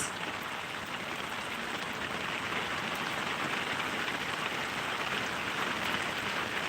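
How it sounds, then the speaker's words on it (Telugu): Heavy rain pours down steadily and loudly in Ramagiri mandal, Sri Sathya Sai district, forming a dense, unbroken hiss with no voices. "బలంగా వర్షం వచ్చింది"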